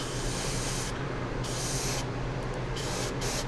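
An airbrush sprays gloss enamel paint onto a 1/144 Gundam OZ-06MS Leo model kit, a loud, continuous close hiss whose airy upper edge cuts in and out briefly several times.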